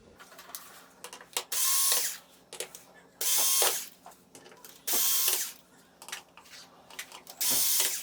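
Screws are driven out of a Sony XBR-55X900C television with a ratcheting power screwdriver, heard as four loud whirring bursts of about a second each, separated by quieter clicks and handling noises.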